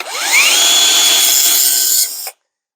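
A Ryobi 18V cordless belt sander spins up with a rising whine and runs steadily for about two seconds on wood edges, loud and close, then cuts off abruptly.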